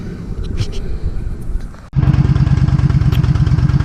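A 2012 Yamaha XVS950CT V Star 950 Tourer idling after a valve clearance job, its engine loud and close with a steady, pulsing low thrum that becomes stronger after a brief break.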